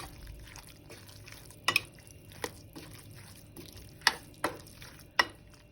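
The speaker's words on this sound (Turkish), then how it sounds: "Malzemelerimizi iyice karıştırıyoruz." Ingredients for acılı ezme, a spicy Turkish chopped salad, being stirred together in a bowl, a quiet wet mixing sound with a few sharp clicks of the spoon against the bowl, close and faint, with no talking.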